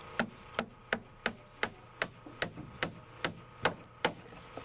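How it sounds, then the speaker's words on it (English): A hand hammer drives nails into a wooden floor being framed, striking about a dozen sharp, evenly spaced blows at a steady rhythm, close and clear, with no talking. "it's nice to have help when you're nailing off a floor by hand"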